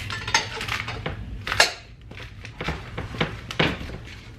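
A kitchen knife cuts a head of cabbage into quarters for sauerkraut, giving several irregular thuds and scrapes of the blade hitting the board, close and fairly quiet.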